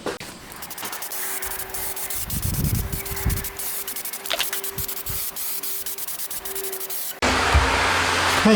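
Spray painting modified parts of a firing kiln, a steady broadband hiss of spray running for about seven seconds before it suddenly turns louder and fuller, with no talking.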